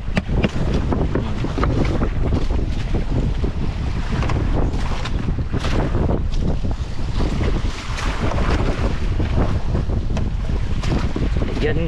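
Steady gusting wind buffets a small boat, with water sloshing and knocking against the hull throughout, loud and close.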